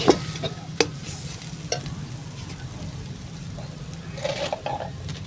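A spatula scrapes and stirs a cabbage and potato chop mixture in a pan with gentle sizzling, a few sharp clinks and knocks at the start and scattered soft scraping later, quiet and close.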